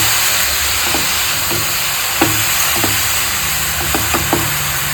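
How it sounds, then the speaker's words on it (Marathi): Grated carrots, a kilo of them, sautéed in ghee for carrot halwa, giving a steady hiss and sizzle with a few soft knocks and scrapes of stirring at irregular intervals, no voices. "आपण चांगलं तुपामध्ये परतून परतून घेणार आहोत"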